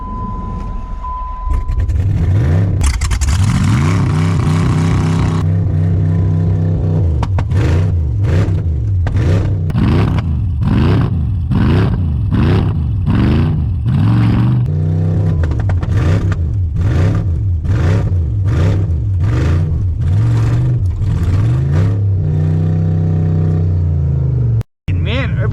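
A 7.3 diesel truck starts in minus 43F cold and runs loud and close. The engine revs up and down in repeated sharp surges for most of the stretch, then cuts off abruptly at the end. Voices are heard alongside the engine.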